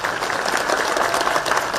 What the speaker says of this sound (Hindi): ताली आधे लोगों ने बजाई,